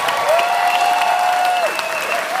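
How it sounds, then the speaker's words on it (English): An auditorium audience at a comedy set claps hard and continuously, a dense wash of applause with a faint tone running beneath it. "there's a lot of hard hand clapping"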